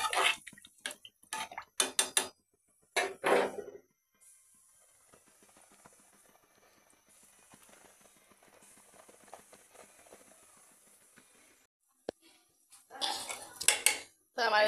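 Freshly fried food tipped into a cooking pot in a home kitchen: a sustained sizzling hiss with scattered clinks of metal, set between bursts of talk before and after.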